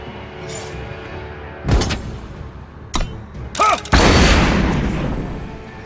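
Gunslinger unit attacking in the Eternal card game: mechanical clicks and a ratcheting whir, then a sharp burst of loud gunshots followed by a crashing impact that slowly fades.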